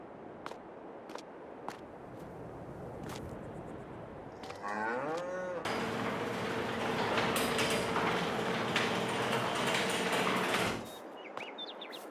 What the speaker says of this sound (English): The main cow building.